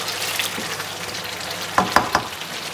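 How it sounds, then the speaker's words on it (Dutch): Octopus frying in a pan, a continuous close sizzle with crackling spits and a few sharper stirring clacks near the end, without any voices. "Dus de octopus erbij doen en 5 minuutjes laten aanbakken."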